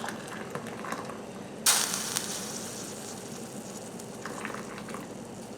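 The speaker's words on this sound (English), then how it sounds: "I did turn my heat off, so this should be simmering down a little bit." A pot of mimosa blossom jelly simmers down on a switched-off stove, giving a steady soft bubbling and sizzling hiss with one sudden louder burst of spatter, fairly close and with no talk.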